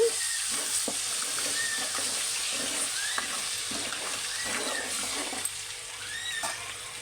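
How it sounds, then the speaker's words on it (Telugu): Ginger paste fries in hot oil for a chicken pickle, giving a steady close sizzle with occasional scrapes of stirring, no voices. "అల్లం పేస్ట్ పచ్చివాసన పోయే వరకు ఇలా వేయించుకోవాలి"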